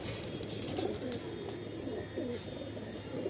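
Golden Teddy border pigeons coo softly and repeatedly, their low burbling calls blending over steady background noise and occasional faint chirps, with no one speaking.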